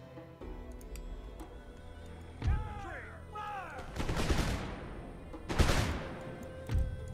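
Musket volleys crack out in the video game Empire: Total War as two broad, rumbling bursts of massed fire a second or so apart, with softer battlefield clatter and a few shouts around them.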